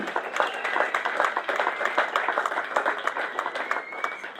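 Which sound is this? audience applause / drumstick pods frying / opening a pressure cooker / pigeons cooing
audience applause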